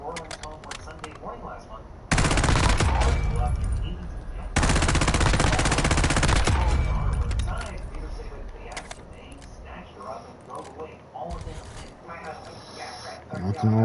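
Automatic weapon fire in the video game Warzone during a recoil test, two long loud sustained bursts followed by a shorter burst, with someone talking between them.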